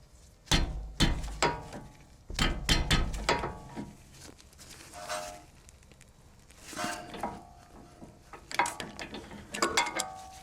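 Ratchet clicks and metallic knocks from working on a sway bar link on a BMW X5 4.4i E53, in bursts of rapid clicking and clanks with pauses, close by and moderately loud.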